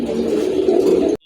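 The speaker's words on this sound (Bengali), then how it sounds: "খুবই সুন্দর এক জোড়া কবুতর দেখতে পাচ্ছেন" A pair of short-beaked crested pigeons for sale makes a low, throaty cooing that rolls on for about a second, close and clear, then cuts off.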